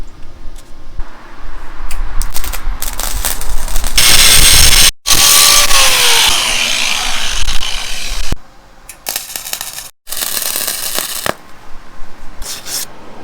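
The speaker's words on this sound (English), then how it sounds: "spot welding here, here, here, and here on each corner" Spot welding steel corners with a Lincoln welder on a cradle cart: loud crackling, buzzing arc bursts in several separate runs, the longest lasting a few seconds, with short pauses between them.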